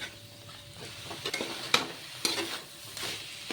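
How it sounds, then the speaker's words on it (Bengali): Jackfruit seeds and taro stolons frying with spices over very low heat, a gentle steady sizzle punctuated by several sharp spatula scrapes and knocks against the pan. "মশলার সাথে কাঁঠালের বিচি আর লতিটাকে ভেজে নেব"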